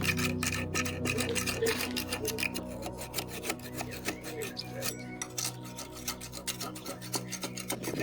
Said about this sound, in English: So it's simply just chisel around the side.